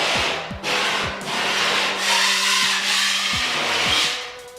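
A patching trowel dragged across lumpy drywall mud gives a continuous loud scraping rasp with a few short pauses, accompanied by some faint creaks.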